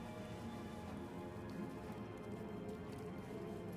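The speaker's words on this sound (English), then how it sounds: "I'm going to make it rain here so that we can walk through the area without getting set on fire" A rain spell cast in the video game Divinity: Original Sin, heard as a steady, even patter of rainfall that holds at a constant moderate level throughout, with no voices over it.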